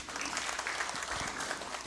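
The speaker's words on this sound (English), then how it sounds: "Let's give him a round of applause, please." Faint, steady applause from the audience in a legislative chamber during a congressional session, a soft continuous patter of many hands at a distance.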